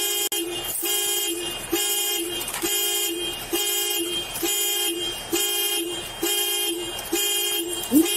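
A car alarm blares repeatedly in a parking area, a loud, regular pattern of honking toots about once per second, continuing steadily throughout.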